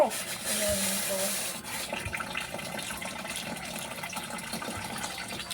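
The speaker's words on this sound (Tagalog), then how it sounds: "Papatay nga ang gripo." A kitchen faucet gushes steadily for a moment and then shuts off, leaving a busy room with indistinct background voices.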